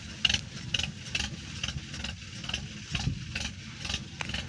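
A Mahindra tractor stuck in a field runs its engine at a low, steady idle, a faint rumbling chug with light rattling and clatter, heard from a short distance.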